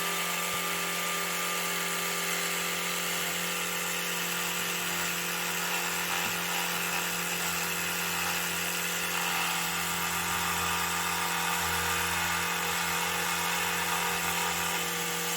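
Electric toothbrush brushing a 3D printed teeth model, giving a continuous close buzzing hum with a steady tone and even loudness throughout, with no talk.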